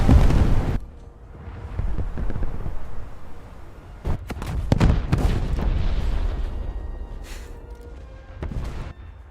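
A warship detonates in World of Warships with a loud booming blast at the start, then a rumbling roar and several further heavy bangs and cracks over a sustained low battle din.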